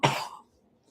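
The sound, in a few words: coughing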